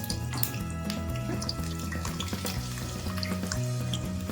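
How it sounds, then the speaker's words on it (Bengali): Potato pieces frying in mustard oil in a kadai, a dense continuous sizzle and bubbling at a steady level, close and moderately quiet, with no talking. "কড়াইতে সর্ষের তেল দিয়ে দিয়েছি আর কিছু আলু এরকম টুকরো করে কেটে নিয়েছি আলুগুলো ভেজে দিয়েছি"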